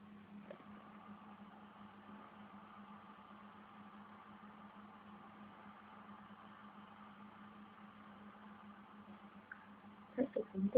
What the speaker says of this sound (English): Oh look, the tractor's coming in.